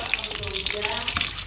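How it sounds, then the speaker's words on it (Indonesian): Eggs fry in a pan, a dense, continuous sizzle and crackle with small spits and pops throughout, close and fairly loud. "Goreng ndok kita ini."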